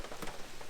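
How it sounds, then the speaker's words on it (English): Rain falling on a camper van in Spain, a steady soft patter of drops drumming on the roof, close and continuous with no voices. "Rainy day."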